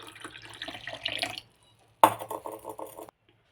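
A salted lemon drink is poured into a glass in two short bursts split by a brief pause, each a close, splashy trickle with faint glassy clinks, and no talking.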